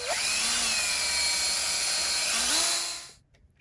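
A high-pitched power drill whines steadily for about three seconds drilling 2.5 mm holes in a metal motorcycle fuel petcock, pitch shifting slightly as it bites, then stops abruptly.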